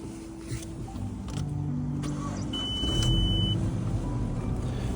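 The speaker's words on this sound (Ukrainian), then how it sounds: "Зараз швиденько покажу, як працює двигун." A car engine idles steadily at close range, a low even hum with a few faint clicks and a brief electronic tone over it.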